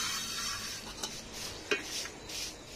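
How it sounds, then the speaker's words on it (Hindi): Dishes and pots are washed outdoors, with soft scraping and a couple of light metallic clinks over a steady hiss of water, faint and somewhat distant. "यहाँ पे बर्तन वर्तन भी धोवा रहा है इधर।"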